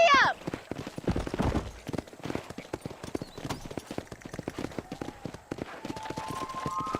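In the Red Dead Redemption video game, horse hooves gallop in a quick, steady clip-clop rhythm close by, with a voice briefly at the start and faint tones near the end.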